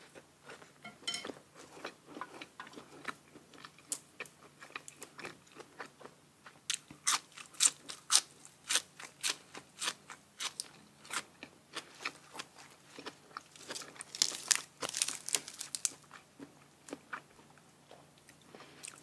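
Someone bites and chews grilled pork balls up close, giving repeated crunchy bites and wet chewing in an irregular rhythm with quiet pauses between.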